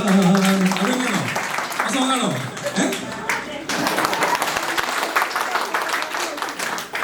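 An audience bursts into clapping amid voices and music-like tones at a Malayalam stage show of tricks. The applause is loud and scattered, mixed with talk and crowd noise through most of the clip.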